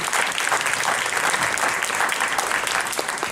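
A round of applause from an audience at a college gathering, loud and dense, with many hands clapping continuously and evenly throughout.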